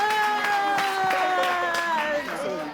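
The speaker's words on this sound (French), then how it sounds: "Applaudissez pour votre candidat!" An audience applauding a candidate at a French show, a crowd of hands clapping under loud cheering and a host's raised voice, with music or sustained tones running underneath.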